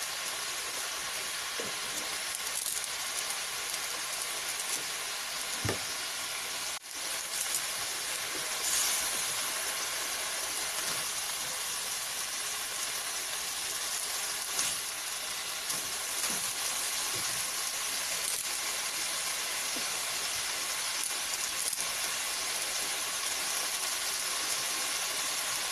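Seasoned chicken frying in a pan until it browns, a steady, even sizzle with occasional faint pops and ticks, fairly quiet and unbroken.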